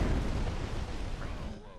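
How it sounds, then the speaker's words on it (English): A Resident Evil 6 explosion rumbles loud and broad from the start, then its low roar gradually thins and fades over about two seconds. "Too bad the explosion got me too."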